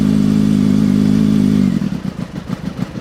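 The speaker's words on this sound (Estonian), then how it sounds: "vajutame starteri nuppu" A street motorcycle engine, started with the starter button, runs close and loud. At first it gives a steady tonal drone, then it turns to an uneven, pulsing idle with irregular firing bursts.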